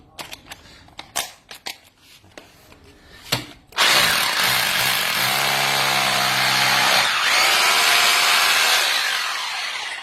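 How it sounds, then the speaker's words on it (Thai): A few scattered knocks, then a loud, steady hammer drill roars in, grinding continuously into concrete at close range with a shifting pitch. "ลองเจาะปูนให้ดูครับผม"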